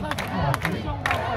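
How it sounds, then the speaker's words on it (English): Crowd chanting support at an arm-wrestling match in Tutrakan, Bulgaria, a dense burst of many voices with rhythmic shouted accents, loud and close. "We can hear the crowd say Krasi, Krasi."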